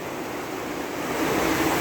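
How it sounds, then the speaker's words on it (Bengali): Heavy rain falls outside a window in Dhobaura, Mymensingh, a dense steady roaring wash that swells slightly louder toward the end, with no voices. "বৃষ্টি হইতেছে জ্বালানাটা বন্ধ করে দিই"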